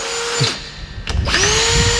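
A power drill whirs loudly during an R33 gearbox install, briefly spinning down and stopping, then revving up again, close by with no talking.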